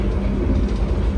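Steady low rumble of the Malabar passenger train running from Blitar to Yogyakarta, a continuous loud drone with faint rhythmic wheel noise and no talking.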